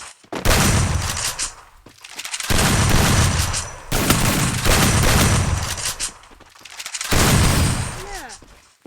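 Rapid gunfire from a gun in the video game Free Fire comes in four long, loud bursts separated by brief pauses, with a few faint whistling chirps near the end.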